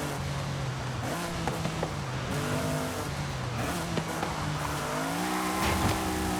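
Racing car in Forza Horizon 5, a stock, unmodified S1-class car, with its engine revving up and down through gear shifts and tires squealing, loud and continuous throughout with no talk.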